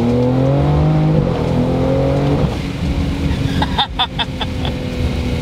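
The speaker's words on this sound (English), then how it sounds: "Explorer ST with 700 horsepower, and by golly, it definitely makes all the horsepower it claims" A tuned 700 hp Ford Explorer ST engine roars loudly and close, rising in pitch under hard acceleration, then shifts and keeps pulling with a rougher, fluttering tone.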